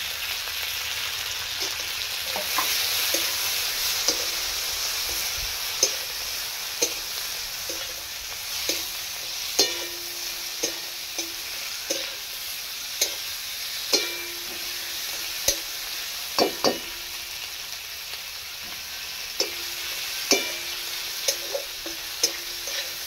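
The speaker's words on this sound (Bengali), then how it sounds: "এইভাবে ভেজে নিই, টমেটোগুলো গলে যায়, তারপরে আমি পোস্তটা দেবো।" Chopped tomatoes frying in a pan, a steady close sizzle with scattered clicks and scrapes of stirring throughout, and no talking.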